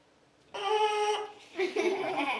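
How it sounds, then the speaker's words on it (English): A brief buzzing tone on a trumpet mouthpiece, held for about half a second, followed by a wobblier, rougher buzz, close and clear. "you're going to have to start, they call it tooting on the mouthpiece"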